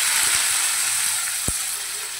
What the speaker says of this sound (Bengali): আর তেল দিয়ে দিয়েছি কড়াই। এই যে আলুটা আমি এবার দিয়ে দেবো।